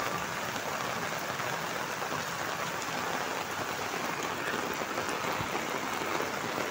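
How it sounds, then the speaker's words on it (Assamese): Heavy rain pours steadily in Lakhimpur, a dense, constant hiss of drops hammering surfaces close by with no pauses, loud and unbroken throughout. "আমাৰ লখিমপুৰ ছাইডে পুৰা ধামাকা বৰষুণ দি আছে।"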